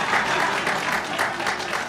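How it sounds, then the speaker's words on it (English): Audience at a sickle cell awareness illumination ceremony claps for a councilmember, a dense steady round of applause with crowd noise, moderately loud and continuous for a couple of seconds. "You can clap for him too."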